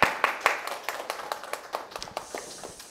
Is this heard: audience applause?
yes